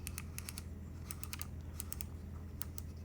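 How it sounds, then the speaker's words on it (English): A touchscreen knob on a computer keyboard is swiped and turned, giving soft clustered ticks in several quick bursts over a steady low hum, close and faint with no talk. "this is a touchscreen knob, and the knob sounds like this"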